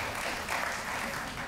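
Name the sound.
applause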